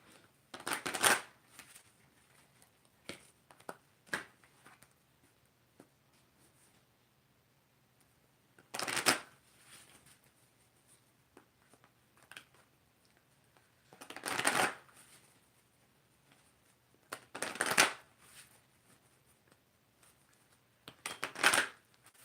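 Energy Oracle card deck being shuffled, soft riffling bursts of cards repeating every few seconds with quiet pauses between, close and faint.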